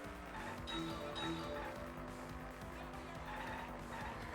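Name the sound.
kart racing in Mario Kart video game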